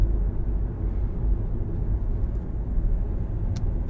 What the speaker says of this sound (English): I jolted awake to the sound of a car engine.